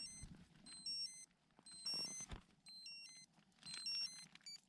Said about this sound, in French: L'alarme vient de sonner, il est 5h42